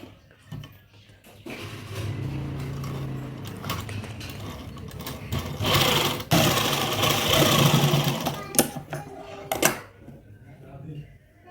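A sewing machine stitches lace onto palazzo trousers, whirring steadily and close for several seconds with mechanical clatter and brief pauses before it stops.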